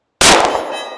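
A pistol bullet strikes a steel target with one sharp metallic clang that rings briefly and decays, loud and clear after a moment of silence.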